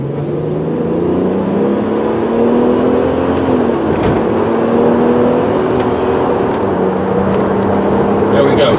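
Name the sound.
2003 Ford Explorer engine accelerating at full throttle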